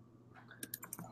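A few quick keystrokes on a computer keyboard, about five light clicks in a short burst, close and quiet against a soft room background with no voices.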